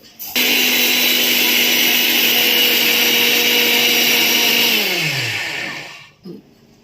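A kitchen mixer grinder pulverises sesame seeds for til laddoo. It gives a loud, steady motor whir for about five seconds, then winds down to a stop, followed by a brief clunk.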